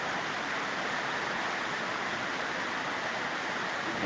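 A torrential monsoon downpour pounds the Balumama temple grounds at Belmachi, producing an unbroken, broadband hiss and roar of rain that holds steady and loud for the whole stretch, with no one speaking.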